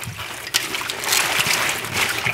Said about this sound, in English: so I filled it up with water